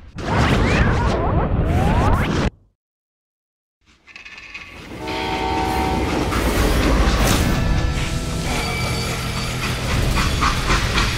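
Freight train in the video game Call of Juarez: Gunslinger, a loud rumbling run with horn-like tones that cuts to near silence for about a second and a half before resuming with clattering wheels and hiss.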